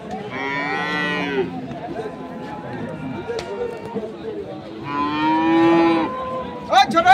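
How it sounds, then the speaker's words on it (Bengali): A dairy cow moos twice, loud and close, at the Ambari cattle market in Dinajpur, with market chatter and voices around it between the calls. "ভাই দুধের গরু এটা।"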